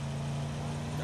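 A vehicle engine in PUBG, a steady droning hum with a strong low tone that runs unbroken and fairly loud, sounding rough and unhealthy.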